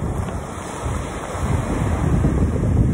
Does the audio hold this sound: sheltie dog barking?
no